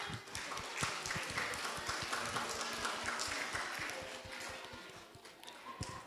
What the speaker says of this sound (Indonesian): Yuk tepuk tangan sekali lagi untuk adik-adik dari Ekskul Balet.